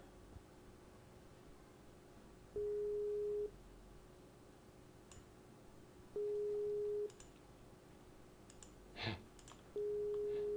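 A Skype call ringing unanswered: a steady electronic tone repeating at regular intervals, with faint clicking and a brief higher blip between rings.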